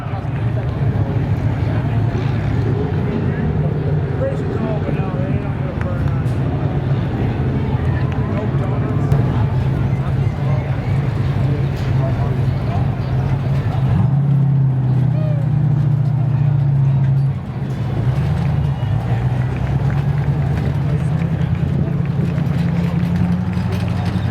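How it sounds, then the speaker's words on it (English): A sport truck engine drones steadily on a victory lap at Seekonk Speedway, a quarter-mile oval, with a low continuous hum and one brief pitch shift as it rounds the track, while an announcer talks over it. "Well-deserved victory lap for Vanada as he rolls around the 3rd mile"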